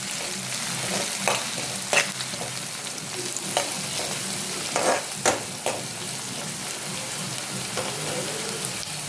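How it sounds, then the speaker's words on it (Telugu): Cumin, onion and chopped green chilli stir-fry in hot oil for a sweet corn capsicum curry, giving a steady close sizzle broken by sharp scrapes and clacks of a spoon stirring the pan. "ఆయిల్ హీట్ అయ్యాక జీలకర్ర, ఆనియన్, 2 పచ్చిమిర్చి చిన్న ముక్కలు"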